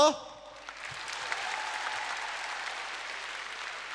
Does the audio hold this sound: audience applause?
yes